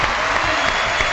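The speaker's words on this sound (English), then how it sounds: "let's give him a round of applause for that" Dense, steady applause from a studio audience, loud and continuous through the whole brief moment, with no voices standing out above the clapping.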